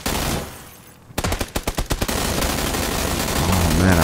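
Gunfire in the video game PUBG: a burst of about eight sharp, evenly spaced shots, loud and near, followed by a steady rumbling background with a faint voice toward the end.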